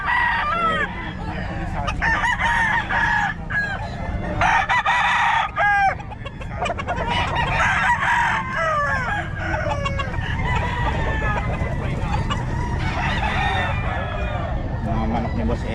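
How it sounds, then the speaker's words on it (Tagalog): Chickens and roosters at a market, with repeated crowing and clucking from several birds close by, over a busy background and people talking. "Mga manok ni Boss Eric"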